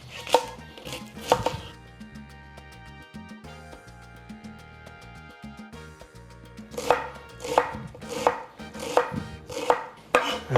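A kitchen knife chops an onion on a cutting board in quick rhythmic strokes, with a burst of cuts at the start and another run near the end over a steady tonal background.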